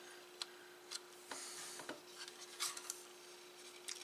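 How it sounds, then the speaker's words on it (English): Light sandpaper rubs along the edge of a 1949 Ford body in short, quiet scratchy strokes with a few brief louder scuffs, close by and otherwise quiet. "go through and hit the edge with a light sandpaper just to get rid of these little bits"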